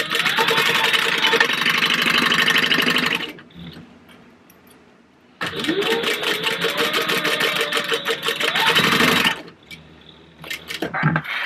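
A sewing machine stitching fabric for a book bag runs in two loud, steady bursts of rapid mechanical whirring, separated by quiet pauses with faint handling noise, close by with no talk over it.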